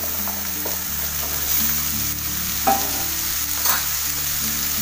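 Chopped pumpkin sizzles steadily in a hot pan of browned onions while a spoon stirs it, scraping and clattering a few times over the continuous close frying hiss.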